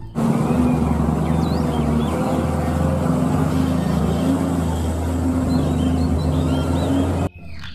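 A tow truck engine runs with a steady, droning hum and a low tonal rumble, loud and close, before cutting off abruptly near the end.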